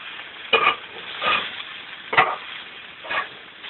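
Homemade hash browns pushed around in a hot frying pan, a few scraping stirs at uneven intervals over a steady faint sizzle.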